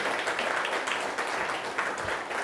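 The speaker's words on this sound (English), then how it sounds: "Can give him a round of applause, please." An audience at an award presentation applauds a recipient in dense, steady clapping that fills the room for the whole moment, loud and sustained, with no voices standing out.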